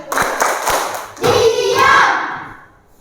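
Students in a classroom clap their hands in a short rhythmic pattern, a few quick claps followed by a fuller burst of clapping and voices that dies away.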